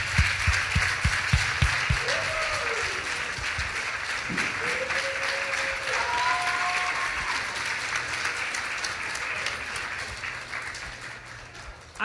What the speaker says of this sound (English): I want to give a big round of applause for all of the work that these folks are doing.